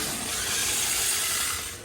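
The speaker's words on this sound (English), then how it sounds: "That noise is just the tires spinning." The tires of a Redcat Lightning EPX RC car, fitted with a metal spur gear, spin on asphalt, giving a steady broadband hiss with a gritty rasp that holds for under two seconds, with no talking.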